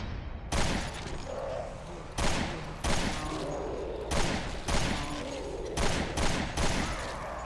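Gunfire in Resident Evil Revelations 2 comes as loud bursts of video game shots, several sharp reports spaced a second or so apart over a steady background of game ambience.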